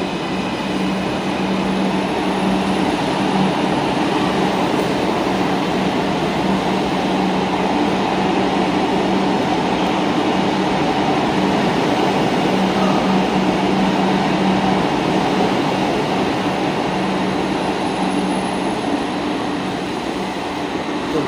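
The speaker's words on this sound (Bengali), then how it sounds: "তো বেরিয়ে গেল ট্রেন" A Kolkata Metro Purple Line train pulls away from Joka station, a steady, droning rumble that holds evenly throughout with no voices.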